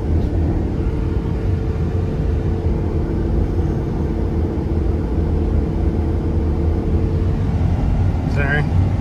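A Ford F-550 with a 7.3 gas engine and 4.88 gears, towing about 14,000 pounds, engine braking with a steady low droning rumble that holds throughout, under faint background noise.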